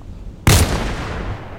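A single loud, sharp rifle shot from the Ursus in the online shooter Contract Wars, a sudden close crack followed by a rolling echo that decays over about a second, with no voices.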